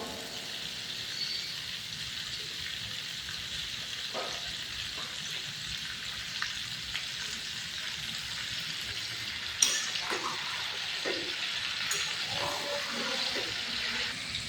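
Spices frying in a pan for mango pickle, a soft steady sizzle with a few faint clinks and stirring scrapes near the middle.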